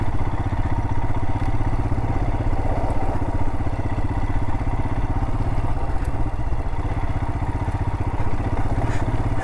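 A motorcycle engine labors steadily and loudly up close on a rough canyon jeep trail, churning without a break and mixed with rattling clatter from the bike over rocky ground.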